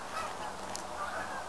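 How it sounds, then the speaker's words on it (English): Geese honk in a steady, fairly faint chorus of overlapping calls outdoors, with no talking. "The geese are flying"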